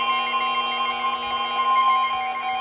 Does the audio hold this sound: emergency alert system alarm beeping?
yes